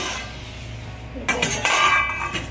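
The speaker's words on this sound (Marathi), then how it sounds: "आता आपण झाकण काढू" A metal lid comes off a pan of dahi dhapate, a Maharashtrian thalipeeth-style flatbread cooking on a gas stove, giving a couple of close clanks and clinks followed by a sizzling, rattling wash of kitchen noise.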